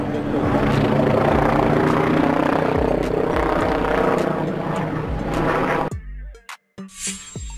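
A news helicopter flies overhead, its rotor and engine giving a loud, steady, pulsing drone for about six seconds before the sound cuts off abruptly.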